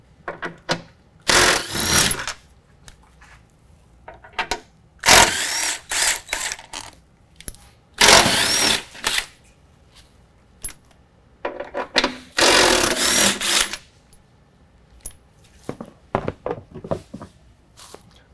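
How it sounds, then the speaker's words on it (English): A 13 millimeter socket on a ratchet backs out skid plate bolts under a 2019 GMC Sierra 1500, giving repeated clicking ratchet runs in several loud bursts separated by short pauses and small metallic handling noises. "we're gonna go ahead and remove these with a 13 millimeter"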